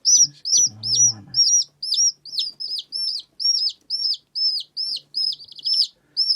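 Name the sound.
baby chicks chirping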